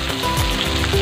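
Red onion dropped into a pan of sizzling golden-brown garlic while cooking pancit bihon guisado, a loud continuous close frying hiss with no talk.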